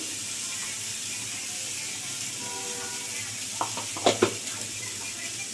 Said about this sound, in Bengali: এবার আমি এর মধ্যে একটু জিরে গুঁড়ো দিয়ে দিচ্ছি